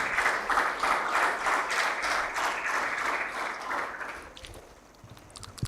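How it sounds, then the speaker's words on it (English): A crowd claps warmly at the close of a university collaboration and signing ceremony, a rhythmic, dense round of applause that fades out after about four seconds into quieter room noise. "as we give a big round of applause to a wonderful gentleman"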